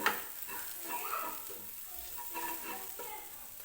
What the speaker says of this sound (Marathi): थोडीशी हळद टाकायची आहे आणि मसाला व्यवस्थित परतून घ्यायचा आहे